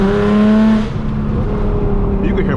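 Nissan Z with an engine misfire, revving loud and steady from inside the car as it drives, the note dropping off after a moment as the throttle eases.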